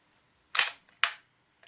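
Two sharp metallic clicks close together from the bolt lever of a .303 British SMLE rifle being unlocked, crisp and near, with quiet between them.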